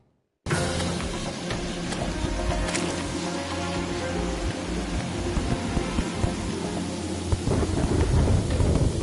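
A thunderstorm in the game Terraria: steady rain pours throughout, and deep rolls and rumbles of thunder swell loud and close, with no voices over it.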